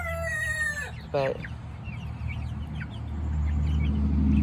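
Young Rhode Island Red chicks on a farm make quick clucking and peeping calls over steady low background hum, with a brief burst of vocalizing near the start and a single short spoken word.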